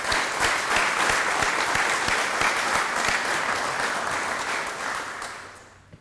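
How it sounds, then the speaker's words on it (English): An audience applauds at a deed signing ceremony with dense, steady clapping that holds strong before fading out near the end. "Just a round of applause for all of our leaders here today"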